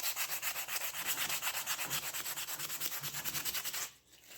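Rhythmic back-and-forth rubbing of 220-grit sandpaper on a part from a Honda XR75 motorcycle rebuild, a fast, even, scratchy stroke pattern that stops abruptly near the end.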